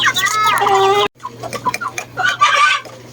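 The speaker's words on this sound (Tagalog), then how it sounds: "Mga meat type po ito, hindi po ito pang laban na mga manok" Meat-type backyard chickens cluck and crow loudly up close, with a sharp pause midway before more clucking and calls, while a voice talks among them.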